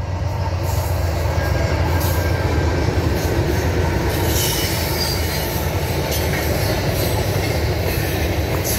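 CN freight train 30T heading south with an ET44AC locomotive trailing, a steady, loud rumble of rolling railcars with wheel squeal and faint clatter throughout, no voices.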